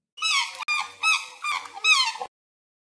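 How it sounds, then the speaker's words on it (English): A series of five or six nasal, bugling honks from a large bird in a steady run, moderately loud and unaccompanied. "Swan."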